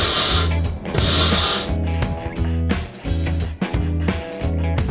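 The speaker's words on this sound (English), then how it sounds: "I'm using a brand new stainless steel brush to prep the surface." Power tool fitted with a new stainless steel wire brush scrubbing a metal surface on a 1977 Trans Am, heard as a close whirring grind in repeated bursts that rise and drop, with no talk.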